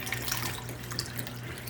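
Cold ice water running and splashing into a bowl for homemade mozzarella, a steady close hiss of pouring liquid with small bright splashes.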